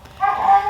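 A Basset Hound and an Australian Shepherd bark and yip while playing indoors, a short, moderately loud burst of tonal yelping that rises and holds for under a second.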